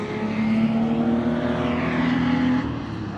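A small 999cc three-cylinder K car engine drones steadily and loudly, rising slightly in pitch as it revs, like a car passing close with a buzzy, humming tone.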